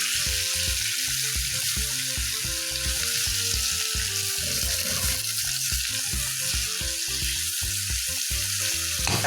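Potatoes frying in a pan for a home-style aloo dish give a steady, loud sizzle throughout, with regular scraping and stirring taps close by and no voices.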